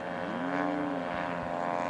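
Scale model propeller aircraft making a low flyby at an air show, a faint steady engine drone with a rising and falling buzzing pitch as it passes, heard alone.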